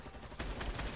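Gunfire in the battle royale game Fortnite, a short burst of shots that grows louder partway through and continues as a dense rattle, with no talk over it.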